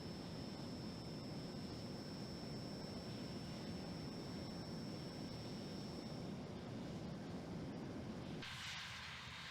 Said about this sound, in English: the aircraft is taking off without any input from my side